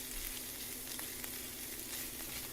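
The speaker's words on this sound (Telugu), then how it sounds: "అల్లం వెల్లుల్లి పేస్ట్ మెత్తగా పచ్చివాసన లేకుండా వేయించుకోవాలి" Ginger garlic paste fries in oil for a salmon fish curry, giving a dense, steady sizzling hiss, close and continuous, with no talk.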